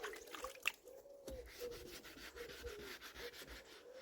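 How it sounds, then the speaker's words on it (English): Folded sandpaper rubs by hand over the lower part of a car wing during home body repair and spray-paint prep. The faint, close scratchy strokes come in a steady back-and-forth rhythm. "rub this bit down here by hand"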